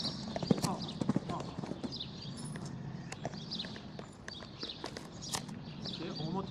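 Horse hooves clop at a walk during a riding session, a steady close rhythm of footfalls under an instructor's voice and background noise.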